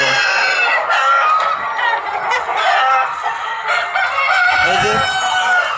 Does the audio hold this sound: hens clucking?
yes